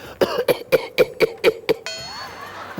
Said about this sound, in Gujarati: રાત પડે ને જરા મારી આંખ મીચાય એટલે કાન પાસે ઉધરસ ખાય